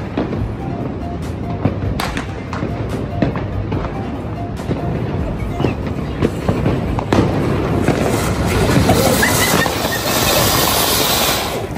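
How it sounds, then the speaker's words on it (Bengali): New Year fireworks go off outdoors in a run of sharp bangs and pops. The bursts thicken into dense, continuous crackling toward the end. "এই ফার্স্ট টাইম হচ্ছে আম্মু আমাদের সাথে আতশবাজি ফুটাইছে"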